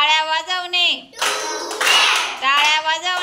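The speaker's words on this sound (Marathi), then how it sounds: "टाळ्या वाजवणे" A short burst of hand clapping, a quick run of bright slaps, sits between stretches of a voice, close and fairly loud.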